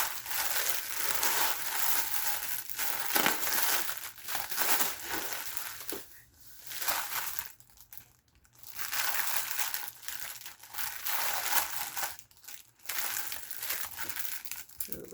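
Paper goods such as wallpaper, napkins and bags being handled, with steady close crinkling and crumpling through most of the stretch and a few brief pauses.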